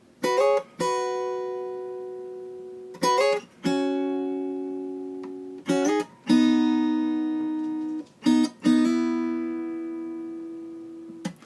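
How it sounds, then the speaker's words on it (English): An acoustic guitar fingerpicked part in short bursts: quick plucked notes followed by long ringing sustained tones, repeating four times with gaps between. "But then there's a complementary guitar part that sounds like this."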